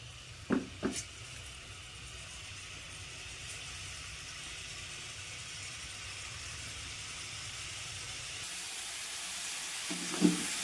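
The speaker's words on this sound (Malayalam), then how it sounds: "വെളിച്ചെണ്ണ ചൂടായി കഴിഞ്ഞപ്പോൾ തിരുമ്മി വെച്ചിരിക്കുന്ന ചിക്കൻ കഷ്ണങ്ങൾ" Chicken pieces fry in a small amount of hot coconut oil over a high flame, giving a steady, soft sizzle throughout, with a few brief clinks near the start and again near the end.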